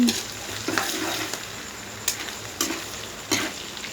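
Chillies frying in a pan for a northern Thai dish, a close sizzle broken by several sharp scraping stirs and clinks of a utensil against the pan.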